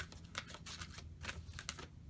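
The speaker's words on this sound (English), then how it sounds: "One more shuffle after this one" Rapid, light clicking and flicking of tarot cards being shuffled nearby, a steady papery patter with small sharp snaps.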